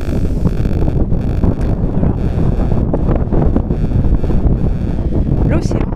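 Strong wind on the Atlantic coast at Noirmoutier buffets the microphone in a constant low roar that continues without a break.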